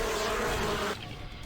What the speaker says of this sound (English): The bee's noise got so loud.